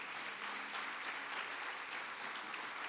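A standing church congregation at a healing and deliverance service applauding, steady soft clapping that sounds somewhat distant, continuing without a break.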